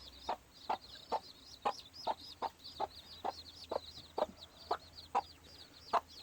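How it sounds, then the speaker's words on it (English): A mother gamefowl hen with young chicks in a pen clucks in short, evenly spaced pulses, about a dozen soft clucks with faint high chick peeps in between, quiet and close. "There's old mama hen."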